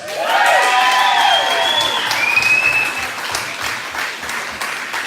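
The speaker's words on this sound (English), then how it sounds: "Round of applause!" A wedding crowd bursts into loud, sustained applause with cheers and whoops rising over the clapping, the whole room going for several seconds at full strength before easing slightly toward the end.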